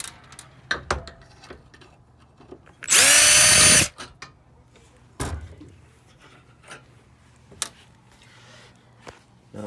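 A power drill whirs in one loud, steady burst of about a second while removing screws from an LG PTAC air conditioner, amid quiet taps and handling clatter nearby.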